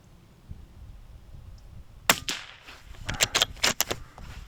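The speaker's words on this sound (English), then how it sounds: "I'm shit at this shooting, Lark." Sharp rifle shots at an outdoor shooting range, one crack followed by a quick cluster of several more, distinct and fairly close with quiet gaps between.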